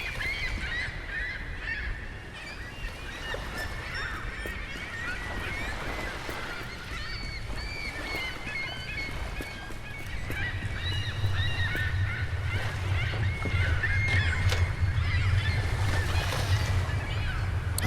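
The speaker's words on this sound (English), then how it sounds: "Looks like the birds are like turning into a tornado, just a huge tornado of birds." A large flock of geese honks continuously in a video game, a dense chorus of overlapping calls over a low rumble that grows louder in the second half.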